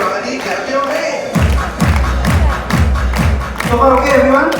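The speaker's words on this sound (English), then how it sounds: "Everybody clap your hands." Audience at a KL event clapping in unison, a steady rhythmic series of loud, regular claps with low thumps following a call to clap, under a crowd murmur.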